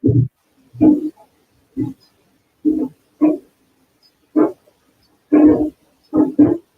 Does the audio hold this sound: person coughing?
no